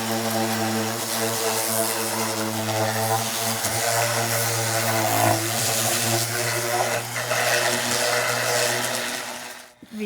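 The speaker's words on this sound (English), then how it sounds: "Now we just got to get a sander and kind of take care of the edges so no one gets a sliver." Power sander smoothing the edges of a wooden indoor swing, a steady loud motor whine with a strong hum, running continuously for several seconds before cutting off at the end.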